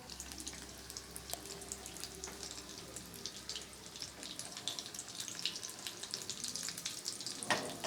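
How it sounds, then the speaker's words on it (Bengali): Potato and bread slices shallow-frying slowly in a pan for a vegetarian snack, a faint, steady crackling sizzle with scattered pops and a few soft utensil touches. "একটু লাল লাল করে সময় নিয়ে ভাজতে হবে।"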